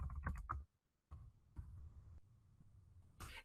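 Keystrokes on a computer keyboard as a web address is typed into a new browser tab: a quick burst of close taps, a pause, then scattered single presses and a final cluster, with no talking.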